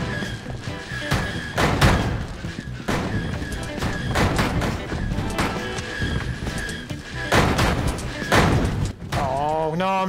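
Firecrackers going off in the video game Bully, a run of sharp thuds and bangs that keep coming through the whole stretch amid busy game sounds.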